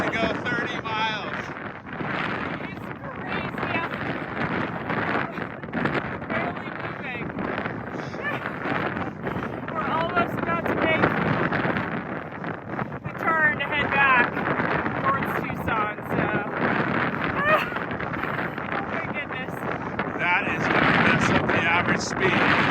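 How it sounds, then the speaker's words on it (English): A strong headwind buffets a cyclist on a long bike ride, roaring and gusting across the microphone in continuous, uneven bursts from start to finish. "We've been battling a headwind for 30 miles."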